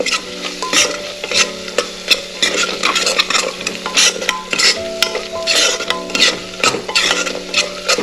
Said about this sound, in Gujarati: 1 ચમચી ધણા પાવડર ઉમેરીએ છીએ અને એને મિક્સ કરી લઈએ